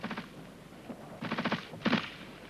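Covering fire from a military infantry section's gun group during a fire-and-manoeuvre drill: three short bursts of gunfire at moderate distance, separated by brief gaps, with no talk.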